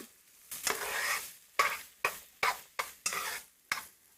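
Chopped garlic sizzles in a hot pan while a utensil stirs it, making a series of sharp scraping, crackling bursts in an irregular rhythm, close and fairly quiet, with no talking.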